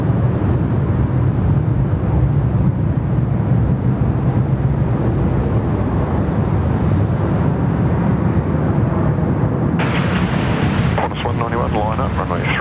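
A large jet aircraft landing on runway 34 at Sydney Airport, a loud, steady low roar of engines lasting throughout, with a brief higher whine near the end; radio chatter and talk run underneath.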